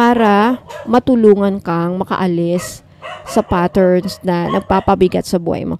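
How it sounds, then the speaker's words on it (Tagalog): Several dogs bark and yip in short, repeated bursts close by, mixed in with a person talking steadily. "tahol ng mga aso ko."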